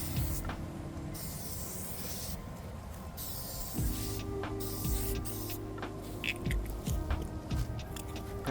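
A coating is sprayed onto a 2013 Hyundai Elantra headlight as a steady, broad hiss runs throughout, over a droning machine hum that cuts in and out, with scattered clicks.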